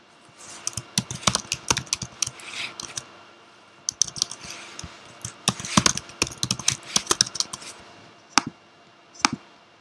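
Keys clack in irregular bursts as a password is typed on a computer keyboard during a Windows Server 2012 setup, close and fairly crisp, with brief pauses between runs of keystrokes.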